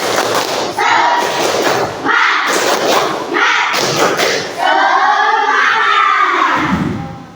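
A school class performs a rhythmic spirit clap, several loud grouped thuds of hands in a patterned beat, followed by children's voices calling out together.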